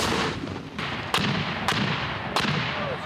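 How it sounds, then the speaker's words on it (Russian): Repeated gunshots at a military reservist shooting range, with three sharp, loud reports spaced about a second apart over steady background noise. "после чего перешли к стрельбам на точность и скорость"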